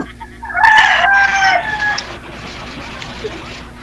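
A native rooster crows loudly nearby, one long strained call that trails off into outdoor background noise.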